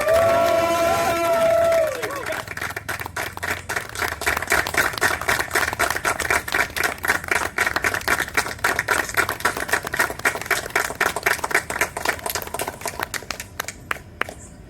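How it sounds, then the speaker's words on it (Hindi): A theatre audience at a Hindi stage play applauds to welcome the play's director, with loud, rapid clapping that fills the hall for over ten seconds after a brief tonal sound at the start. "जोरदार ताली से स्वागत कीजिए।"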